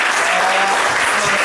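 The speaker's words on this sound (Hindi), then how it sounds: "जोरदार तालियों में बेटी को जाने देंगे हमारे" Loud, steady applause fills the hall as an audience claps a girl onto the stage at a Sunday school Bible-reading event, dense and continuous without a break.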